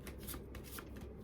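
A tarot card deck being shuffled by hand, a soft continuous riffle and flutter of cards, close and quiet, with no voices.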